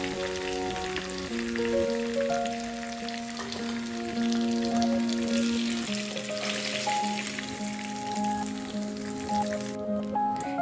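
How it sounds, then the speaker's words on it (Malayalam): Bone-in chicken fries in butter in a pan, a continuous crackling sizzle heard steadily beneath background music, with no one talking. "ഇതെല്ലാം ഇനി അവിടെ കിടന്ന് നന്നായിട്ടൊന്ന് ഫ്രൈ ആവട്ടെ ബട്ടറിൽ കിടന്ന്"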